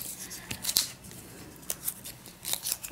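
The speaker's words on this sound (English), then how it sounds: "I'm going to snip here" Scissors snip through washi tape, giving several crisp, close cuts in quick succession, each with a faint papery rustle between them.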